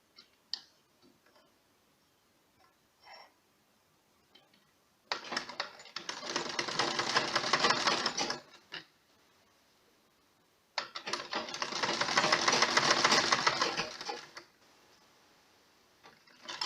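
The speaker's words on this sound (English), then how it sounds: "Now we sew it round the second time." A sewing machine stitches around a homemade face mask in two runs of fast, rattling mechanical ticking. Each run lasts about three seconds and is heard close, with quiet pauses and a few small clicks between them.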